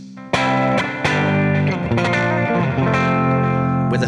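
A humbucker-equipped electric guitar plays through Overloud TH3 with a slightly distorted, still mostly clean tone. A few loud picked chords and notes ring out with long reverberant sustain and no talking.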